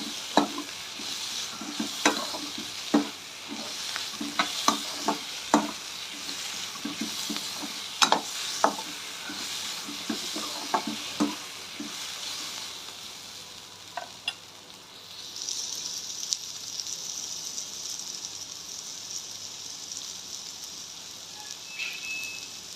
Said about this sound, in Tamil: வெங்காயம் கருகிடாமல் வதக்கிக்கோங்க.